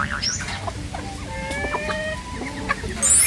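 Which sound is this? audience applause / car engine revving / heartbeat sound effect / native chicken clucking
native chicken clucking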